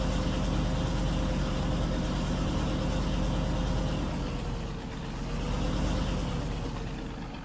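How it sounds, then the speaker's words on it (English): A combine harvester engine in Farming Simulator 19 runs with a steady, droning low rumble and a constant tonal hum, holding even with a slight dip and recovery near the end, no voices over it. "Let me get some of these combines going again"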